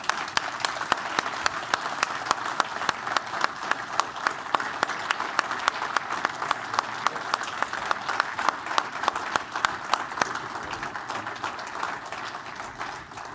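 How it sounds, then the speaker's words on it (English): A room full of attendees gives a speaker a lengthy round of applause, with many hands clapping in a dense, even patter with sharp individual claps standing out, keeping a steady level before easing slightly at the close. "Join me again for one more round of applause."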